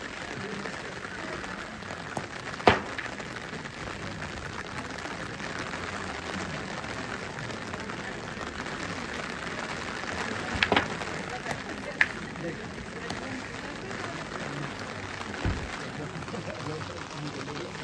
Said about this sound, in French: demain il fera beau, mais aujourd'hui il pleut.